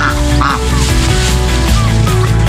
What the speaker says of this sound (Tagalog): Ang dami palang sisiw nito ano.